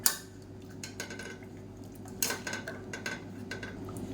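Cooked tomato soup is mashed with a wooden churner in a pot, giving irregular wooden knocks and clatters against the vessel over a low steady kitchen hum.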